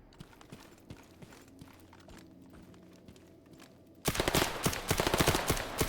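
Gunfire in the Mercenary of the Zone shooter game: faint scattered shots at first, then a sudden loud burst of rapid close-range firing in the last two seconds.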